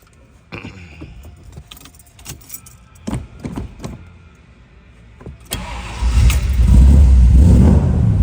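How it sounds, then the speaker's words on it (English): A 1973 Chevrolet Corvette engine cranks to life after some clicks and jangling, then revs loudly and steadily, close by, with no talking. "Great sounding car."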